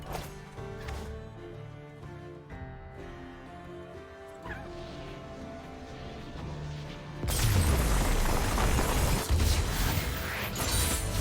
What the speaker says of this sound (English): Did they patch the cannon shark animation to be the victory scream?